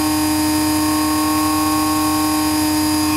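A multi-strand bucking generator coil rig running at about 300 hertz, a steady loud tonal hum with strong harmonics over an even mechanical whir, unbroken and close, with no speech.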